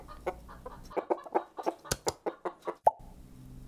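A chicken clucks in a quick, uneven series of short sharp notes close to the listener, ending in one louder squawk, with faint background noise and no talking.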